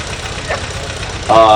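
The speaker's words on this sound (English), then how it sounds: "This is a 1908 Sears runabout owned by Gerald Benmore" A 1908 Sears runabout, a two-cylinder, 10-horsepower car, idles with a low, uneven chugging at an old car festival while someone talks over it.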